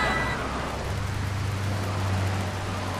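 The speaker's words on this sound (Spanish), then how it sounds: "Es como que llueve en algunos lados y en otros no." Steady rain falls in the video game GTA 3, a continuous hiss of rainfall with a low vehicle engine hum joining underneath partway through.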